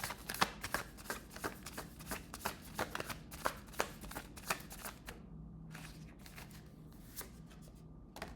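Tarot cards shuffled repeatedly in a close, crisp series of riffling bursts, with the flurries thinning out toward the end and no talking.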